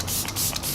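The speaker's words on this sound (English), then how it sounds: "Setting spray." Makeup setting spray mists out in a couple of quick, close hissing pumps, a brief airy burst with no talking.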